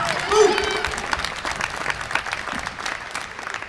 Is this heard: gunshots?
no